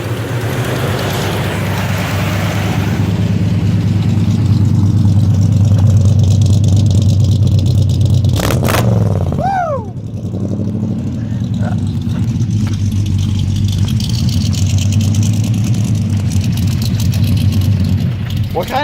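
A 1982 Chevy fitted with a Corvette engine, running straight pipes with cherry bomb mufflers, idles loudly with a deep rumble and is revved hard several times, the exhaust dropping briefly before settling back; voices are heard nearby.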